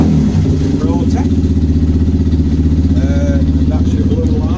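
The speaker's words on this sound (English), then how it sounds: "There's your Jayne exhaust running now." A Honda CBF125 motorcycle with an aftermarket Jayne exhaust idles close by, its throaty, even, low putter pulsing steadily throughout as faint background sounds come and go.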